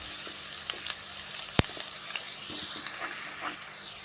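Onions fry in hot oil until golden brown, giving a steady close sizzle with scattered small pops and one sharp utensil tap.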